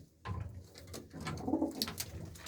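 Racing pigeons coo nearby in low, rolling bursts, one after another, after a brief quiet start.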